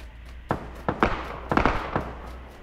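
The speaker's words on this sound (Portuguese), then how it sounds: "Não ruim é esses tiros aqui pra frente." Gunfire in the PUBG Lite battle royale game, a handful of sharp muffled shots spaced irregularly over a steady low hum, some in quick pairs, moderately distant.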